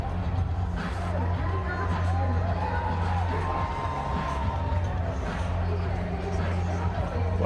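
A rugby sevens stadium crowd in Edmonton cheers and roars in a steady, lively mass, loud and continuous, with a commentator talking over the noise.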